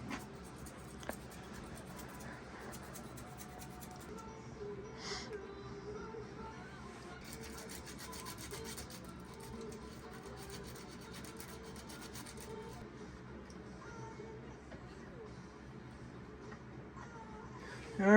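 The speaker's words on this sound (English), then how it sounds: "Got my sandpaper. I'm going to go ahead and polish these points." Sandpaper polishes the ignition points of a 77-year-old Johnson outboard motor, making a faint, steady rasping rub that continues for the whole stretch at low volume, with no talking.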